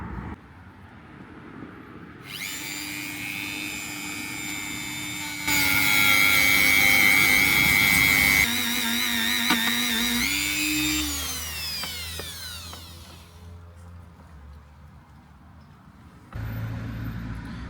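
Whining power grinder spins up against car body metal, grinding off paint, pitch shifting as it bites and eases off, loud bursts separated by quieter stretches.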